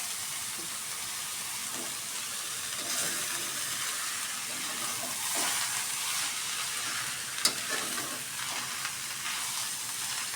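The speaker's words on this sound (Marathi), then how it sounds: "आता हे बीटसुद्धा आपल्याला 5 मिनटं चांगलं परतून घ्यायचं आहे" Beetroot and softened peas sautéing in a pan, a steady close sizzle with frequent stirring scrapes and small clatters of the spoon throughout, no voices.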